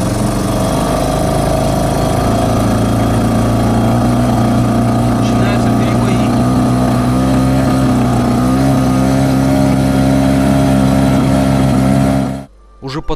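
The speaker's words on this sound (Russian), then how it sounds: "Хотя мотор работал с перебоями" An outboard boat motor running unevenly on the Aldan river, a loud, close, steady drone with a slightly wavering pitch that cuts off abruptly near the end.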